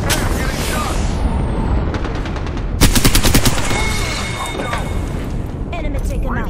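Loud, close gunfire from an Apex Legends match: rapid automatic bursts crackle over a dense game soundscape, with a heavier volley in the middle of the stretch.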